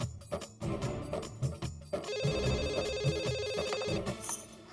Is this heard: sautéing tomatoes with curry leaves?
no